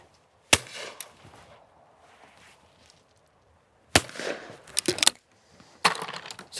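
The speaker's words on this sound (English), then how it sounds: "So that's the Browning 20 bore." Browning 20 bore shotgun fired outdoors, three sharp sudden blasts spaced a few seconds apart, each followed by a brief rattling decay, with quiet stretches between.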